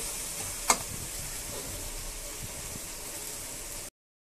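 Potatoes added to tomato gravy in a pan, a sharp clatter at the drop followed by a quiet, steady sizzle and faint stirring, with no talk.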